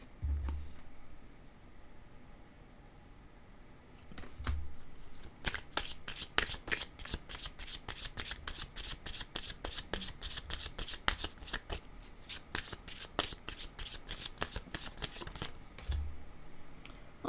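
Tarot cards are shuffled close by in a long, rapid run of crisp riffling flicks, preceded by a few soft thumps as the deck is handled.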